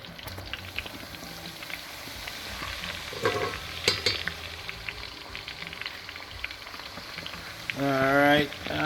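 Chicken wings fry in a pan with a soft, continuous sizzle, faint and close, broken by a few clinks and scrapes of stirring and a short louder rattle near the end.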